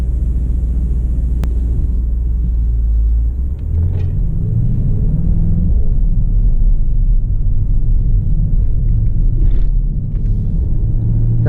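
A Mercedes-AMG GT 63 in super sport mode gives a deep, steady engine rumble heard from inside the car, loud and continuous with a slight rise in pitch partway through.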